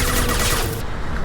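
A dense burst of rapid gunfire against enemies in Mass Effect 2, loud and close, a continuous rattling volley that cuts off sharply partway through the brief moment.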